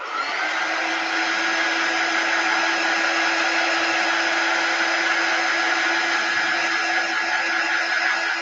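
A hair dryer blows steadily on a snowman's fabric nose in a quilted 3-block snowman project, a constant close whirring roar with a fixed whine running unbroken from start to finish.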